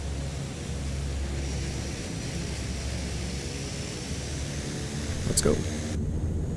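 A CL-415 water bomber in Microsoft Flight Simulator 2024, heavy with a full water load, drones with a steady engine roar and hum throughout, with a voice speaking briefly.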